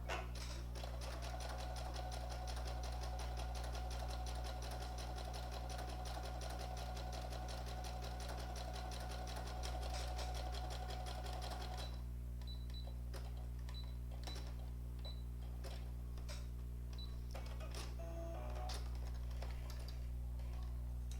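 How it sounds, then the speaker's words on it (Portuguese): Sewing machine running a basic appliqué seam on felt, a steady rapid mechanical stitching whir for about twelve seconds, then stopping, followed by scattered small handling clicks and taps nearby. "Essa foi a minha costura de aplicação feita na máquina."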